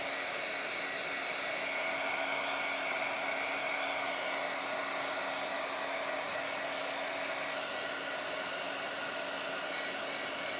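Hair dryer blowing to dry freshly stamped ink on a journal page, a steady, close, loud whooshing hum that runs unbroken throughout with no talking.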